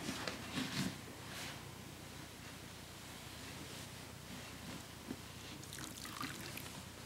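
Hot water pours over braided hair in a steady, close, hissing splash. It runs continuously with occasional small gurgles and drips.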